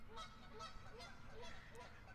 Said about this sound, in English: these geese are just making me laugh